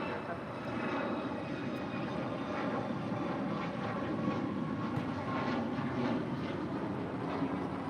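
Airliner departing runway 25 right at LAX, a steady broad engine roar that stays loud and constant throughout, with a faint radio voice beneath it.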